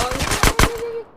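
Video game gunfire: a short automatic burst of several rapid shots, the last two louder and sharper, close and alone with no voices.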